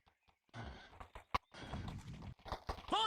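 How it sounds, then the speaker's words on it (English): Horses neigh and clip-clop in a VRChat roleplay scene, with hooves knocking in quick bursts and a loud whinny near the end, all close and without speech. "horses."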